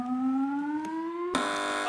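A team's buzzer on a British comedy panel quiz gives a loud, sustained electronic tone gliding gently upward, then cuts into a harsher, brighter blast for the final half second.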